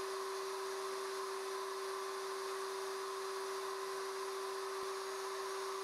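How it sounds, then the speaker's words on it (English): A router cuts 3/4-inch box joints with a Leigh RTJ400 jig, giving an unbroken, even motor whine with a thin hiss, steady and fairly quiet, with no change in pitch or rhythm. "Route in each opening of the template"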